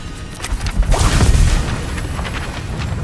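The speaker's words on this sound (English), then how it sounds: "Your book exploded!" A book bursts apart with a magical explosion in the Hogwarts Legacy video game, a loud boom swelling to a peak and then easing into a rumbling, crackling tail.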